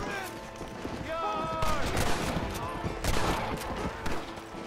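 Gunfire in the Western shooter Red Dead Redemption, scattered loud shots and heavy impacts over a busy battle backdrop, with people talking throughout.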